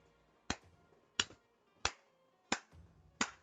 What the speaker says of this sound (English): You just hear a clap.